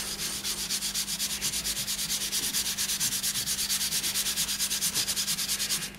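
A laurel wood box has finish rubbed in by hand in quick, regular back-and-forth strokes, a close, steady rasping rhythm of about four strokes per second with no talking.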